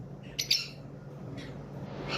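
Pet lovebirds at a breeding farm give a few brief, sharp squawks and chirps, one pair close together early and fainter calls later over a steady low background hum.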